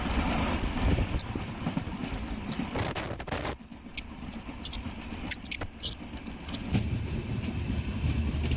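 The Sethu Superfast Express from Chennai Egmore to Rameswaram rolls along the rails, heard from inside with a steady rumble and rhythmic clatter of wheels over joints, plus a few brief sharper knocks midway.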